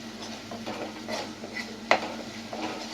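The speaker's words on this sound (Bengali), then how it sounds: "দিয়ে এবার ভালো করে নাড়ছি" Garlic and chal kumro (ash gourd) peel are stirred and fried in a pan, with gentle sizzling under close scraping strokes and one sharp metallic clink in the middle.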